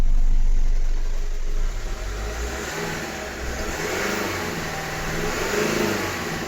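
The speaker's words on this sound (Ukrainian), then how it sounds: "Ну Мотору тут все одно хана зараз покажу" A Ford car engine with a fluctuating idle runs steadily, rising into a few revs and settling back, close by with no voices.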